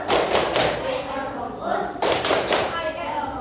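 Fifth-grade pupils in a classroom clap and chant in unison, two loud bursts of claps and voices close by with a brief lull between them.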